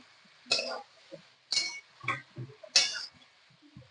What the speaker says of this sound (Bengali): তারপর এটাকে আমি নেড়ে চেড়ে নেব, ভালোভাবে মশলার সঙ্গে মিশিয়ে নিতে হবে।